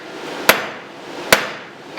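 Two sharp, loud hammer blows land about 0.8 seconds apart as a blacksmith strikes a bar straight down on round dies while forging a taper, each ringing impact standing alone over faint background noise.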